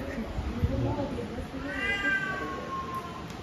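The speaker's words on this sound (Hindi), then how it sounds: "और खाली म्याऊं म्याऊं कर रहे थे" A house cat gives a drawn-out meow, fairly faint, rising over steady background noise and nearby voices in a home.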